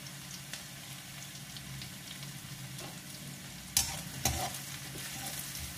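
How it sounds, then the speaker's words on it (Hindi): Grated garlic sizzles steadily in hot oil in a kadhai while Lehsuni Palak is being cooked. The frying hiss is constant and close, with a couple of brief stirring scrapes and clanks and no talking. "और लहसुन को थोड़ा सा तड़कने देंगे आप"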